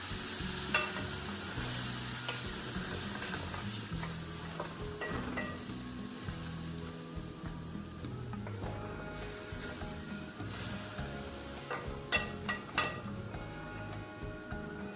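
Slurry is stirred into a sizzling pancit palabok sauce, giving a steady bed of frying sizzle with scraping, stirring strokes and a few sharp utensil clinks against the pan throughout, with no talk.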